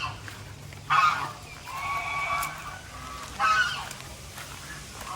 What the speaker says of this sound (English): And I love my geese too